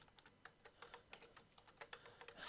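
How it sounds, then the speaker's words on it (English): Typing on a computer keyboard: quiet, uneven key clicks arrive in quick bursts throughout, close and faint, with no speech. "Having trouble typing."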